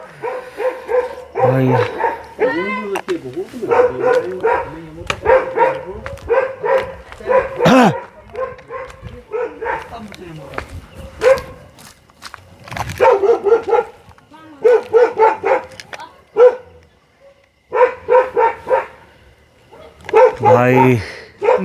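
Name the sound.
dog barking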